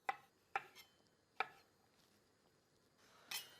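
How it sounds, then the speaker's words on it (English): Knife cutting tomatoes into quarters on a board, with four sharp, separate chops spaced unevenly and a faint scrape between them, close and clear in a quiet kitchen. "just get your tomato and cut them in quarter"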